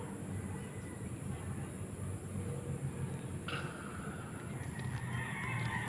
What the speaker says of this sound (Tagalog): Ayan yung mga Brahma natin.